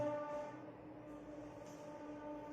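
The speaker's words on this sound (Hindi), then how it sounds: "ट्रेन की आवाज आती रहती है" Train running past near a railway station, heard as a steady distant rumble with sustained tonal hum, faint and continuous throughout with no voices.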